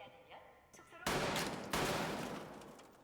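Gunfire plays through speakers during a Squid Game episode, with a quiet lead-in followed by two loud, abrupt bursts of rapid shots that ring out and decay, close and without talk over them.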